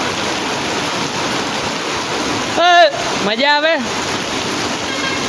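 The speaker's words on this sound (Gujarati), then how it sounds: "વરસાદ આવ્યો." Rain falls steadily in a continuous wash of hiss, with voices briefly talking and laughing over it near the middle.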